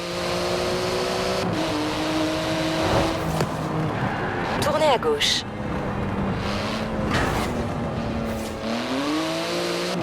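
A 3.8-litre twin-turbo flat-six of about 700 horsepower with carbon fibre bodywork drives in Forza Horizon 4, its engine note droning and shifting pitch steadily while a navigation voice speaks over it.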